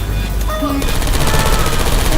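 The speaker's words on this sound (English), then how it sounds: "I heard gunfire" Rapid video game gunfire from Portal 2 rattles steadily through the whole stretch, loud and dense, with faint game voices and effects beneath it.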